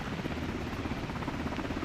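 Sikorsky MH-60 Blackhawk helicopter in a flight simulator game, a steady, loud low rotor and engine drone filling the whole moment without pause or voices.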